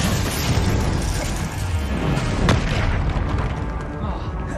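A spell cast in Hogwarts Legacy lands with a loud, heavy boom around the middle of the moment, set against dense, rumbling game effects and ambience that stay strong from start to end.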